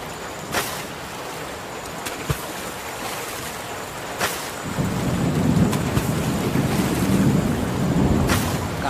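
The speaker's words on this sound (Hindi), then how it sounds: "बहुत तेज बारिश हो रही है।" A steady rush of heavy rain, with sharp cracks of thunder scattered throughout and a deeper roar building in the second half.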